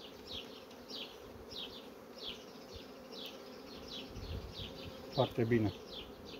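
Honeybees buzz over a hive frame of capped brood, a steady close hum with individual bees zipping past, and someone speaks briefly near the end.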